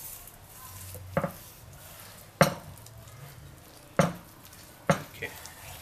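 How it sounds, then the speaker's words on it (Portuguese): Knife chopping grilled picanha beef into strips: four sharp, separate knocks on a board, spaced about a second apart, over quiet background hiss. "Nós vamos picar toda essa carne"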